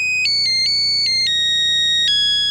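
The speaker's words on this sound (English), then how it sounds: "The Nokia Husker phone with the fight song ringer, only at Alltel Wireless" A Nokia mobile phone ringtone playing the Nebraska Cornhuskers fight song as a simple electronic melody of clear, sustained beeping tones changing pitch step by step, loud and alone.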